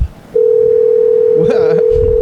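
A telephone dial tone starts abruptly and holds as a loud, steady hum while a call is placed, with a brief burst of voice partway through and another voice at the end.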